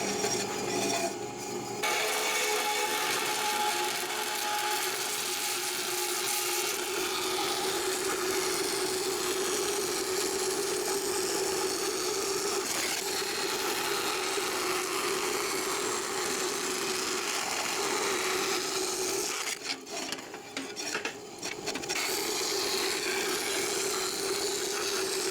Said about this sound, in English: that's the problem with having a miniature bandsaw